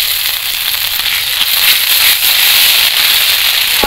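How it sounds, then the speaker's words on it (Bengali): Ginger paste dropped into hot oil with nigella seeds and cumin in a wok, sizzling loudly and crackling steadily and close, a dense spattering hiss with no talk over it. "এবার দিয়ে দেবো আদা বাটা"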